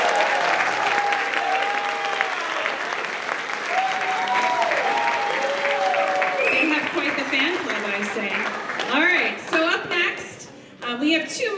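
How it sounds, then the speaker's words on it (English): Steady audience applause at a Night of Percussion concert, sustained clapping from a full crowd that tapers near the end, with some voices over it. "can you please give them a round of applause?"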